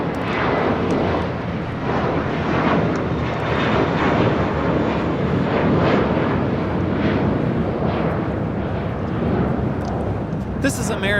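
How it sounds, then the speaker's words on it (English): An American Airlines A321 jet taking off at LAX, a loud sustained engine roar with rumbling surges close by, while a voice talks over it. "1848 taking off to JFK on an A321."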